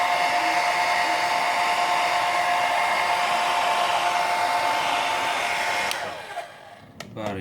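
A hair dryer blows steadily and loudly at close range while drying out a multimeter, then cuts off near the end, leaving a short quiet tail with faint handling noise.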